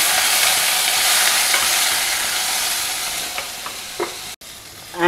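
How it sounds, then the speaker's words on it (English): Green chillies, curry leaves and cooked groundnuts are stir-fried in a hot pan, giving a loud, steady hiss of frying with a few soft scraping stirs near the end. "two green chilli and a few curry leaves. Stir fry them, then add the cooked groundnut."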